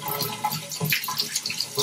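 Water splashes and pours over a dog during a bath, a close, continuous gushing and spattering with no voices.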